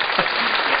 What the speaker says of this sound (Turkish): Bir alkış yok mu ama yani?